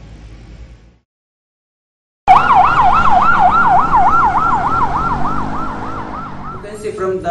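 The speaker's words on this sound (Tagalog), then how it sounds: "an ambulance siren sounds higher pitched as it approaches you." Simulated ambulance siren wailing in a steady rising-and-falling cycle, loud and close, beginning abruptly after a brief quiet gap and holding at full strength, its pitch sliding lower toward the end with a Doppler shift as it moves away.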